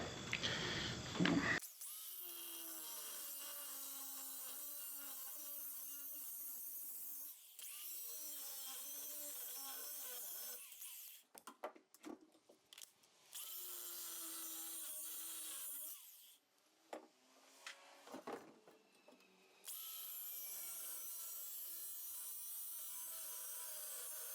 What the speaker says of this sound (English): I'm gonna grab a cutoff wheel and see if that'll work